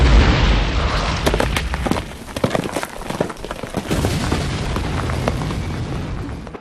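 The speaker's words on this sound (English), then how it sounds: "once they're safely above ground, the explosives are detonated" Underground blasting in a gold mine, heard as a sustained rumbling roar with a deep low boom at the start and scattered sharp cracks and bursts running throughout, loud and continuous with no voices.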